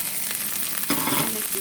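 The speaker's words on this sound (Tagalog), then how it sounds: "I'm going to saute the garlic and onion" Garlic and onion sautéing in a pan for pork ribs binagoongan, a soft steady sizzle with one louder stir or scrape partway through, heard alone.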